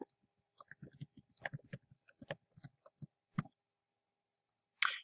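A computer mouse and keyboard click in quick, close, irregular taps, faint and dry against silence, ending in a brief louder rustle.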